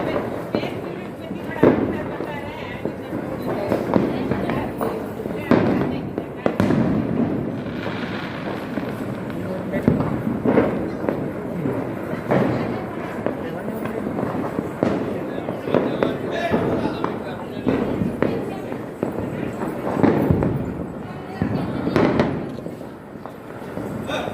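Fireworks at a temple festival with a gold chariot procession: repeated loud bursts and crackling pops at irregular intervals amid a noisy crowd, with people talking.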